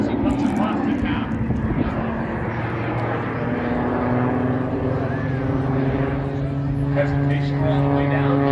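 An aerobatic airplane flies overhead at an airshow, its engine a steady droning roar that shifts pitch as it passes, with an announcer talking over it throughout.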